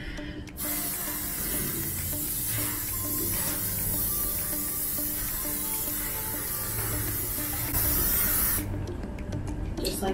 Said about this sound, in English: I'm literally just gonna spray it 6 inches from my leg